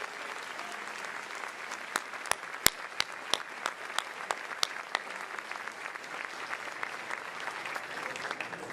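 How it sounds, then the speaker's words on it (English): An audience at a high school senior awards ceremony applauds the grant recipients, a fairly quiet, continuous patter of many hands with a few sharp, close claps standing out, and no talking. "please join me in one last round of applause for all the grants recipients."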